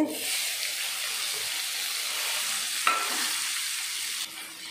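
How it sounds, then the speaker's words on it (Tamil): Onions and tomatoes sautéing in a pan give a steady, close hiss of frying with soft stirring scrapes, and one sharp utensil knock partway through. "வெங்காயத்தையும் தக்காளியும் நல்லா வதக்கிடலாம்"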